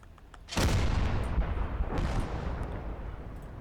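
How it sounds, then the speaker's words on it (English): A flak gun fires in the World War II game Call to Arms: Gates of Hell, German conquest mode. One heavy, close boom bursts out and rolls into a long rumbling decay, with a fainter second report partway through. "This flak gun."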